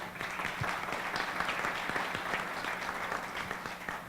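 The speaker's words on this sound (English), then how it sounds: "I think they were applauding the fact that I was going to ask a question" Steady, dense applause from a crowd fills the whole stretch, an even wash of clapping without letup.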